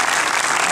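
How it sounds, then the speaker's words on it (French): Audience applause at a film premiere for Jour J, a dense, steady burst of many hands clapping close and loud throughout, with no talk over it. "Et puis avec elle, l'actrice Julia Piaton, on l'applaudit très fort également."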